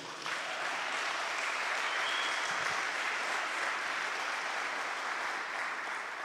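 Audience applause fills the room in a steady, dense wash of clapping that starts abruptly and holds at an even level for several seconds, with no talking over it.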